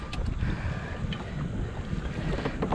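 Kayak paddling on open water in strong wind during a first outing in a Native Titan 10.5 kayak, with steady wind buffeting and water wash throughout and occasional faint paddle splashes, no talking.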